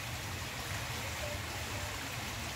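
Rainwater from a short afternoon shower runs and trickles over the ground in the Ceará backcountry town of Acopiara, a steady soft wash of flowing water with no voices.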